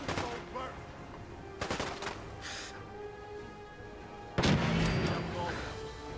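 Gunfire from a marksman's hardened automatic rifle in the Fallout 4 video game: several sharp bursts of shots, a cluster early on and a louder blast near the end, ringing over quiet in-game ambience.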